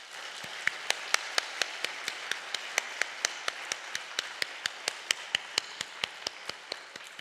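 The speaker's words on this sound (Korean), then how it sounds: "한번 격려의 박수를 부탁합니다" A church congregation gives a round of encouraging applause: a steady, slow series of sharp, evenly spaced claps, moderately near, with no voices over them.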